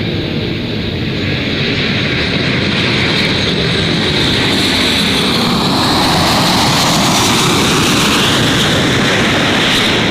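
An airplane at Gold Coast Airport roars loudly and steadily for ten seconds, a broad sustained engine rush with slowly shifting pitch as it passes nearby.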